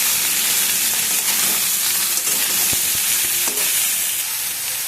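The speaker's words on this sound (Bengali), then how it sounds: "এবার সয়াবিনটাকে ভাজা আমাদের হয়ে গেছে।" Soybean chunks frying in a pan on a home stove, a dense steady sizzle with crackling oil and a few sharp pops, close and loud, no talk.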